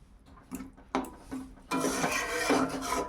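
Water goes into a pot of chicken and potato curry: a few light clinks and taps, then a steady, rushing pour with sizzling that carries on to the end.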